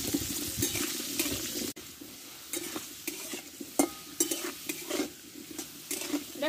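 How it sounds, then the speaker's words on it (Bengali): Cubed potatoes with a pinch of turmeric sautéing in a pan, a steady broadband sizzle broken by repeated scraping stir strokes of a spatula, close and fairly loud, with no talking. "আর এক চিমটে আমি হলুদ দেব, দিয়ে আলুটাকে ভালো করে কষে নেব"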